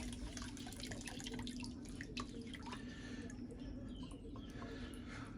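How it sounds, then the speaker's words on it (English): Water flushing steadily through the radiator of a Mazda Miata MX5 during a cam belt replacement, a continuous close trickling and dripping rush with no talk. "One radiator flushed,"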